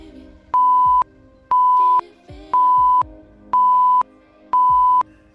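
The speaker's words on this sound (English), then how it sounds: "don't stop on those beeps" Loud electronic interval timer for a Tabata workout sounds five sustained tones, each about half a second, at an even one-per-second rhythm. A quieter background of music or room noise runs between them.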